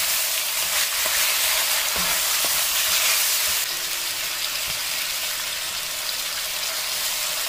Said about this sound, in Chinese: 继续炒，把冰糖炒化，然后把冰糖裹在五花肉上面